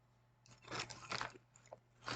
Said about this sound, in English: Very crunchy.